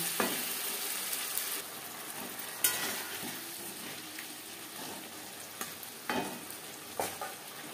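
Potatoes cooked with spices in a pan after a splash of water, for a ridge gourd and katla fish curry: a steady close sizzle and bubbling, with occasional scraping stirs and knocks of a spoon against the pan.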